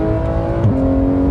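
A Porsche 911 GT3 engine hums steadily and loudly, its pitch climbing briefly partway through as it revs, with no voices over it.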